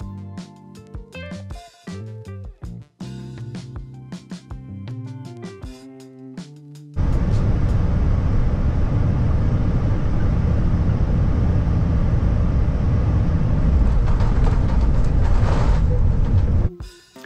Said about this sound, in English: It's the end of typhoon season and we make a bumpy approach into Narita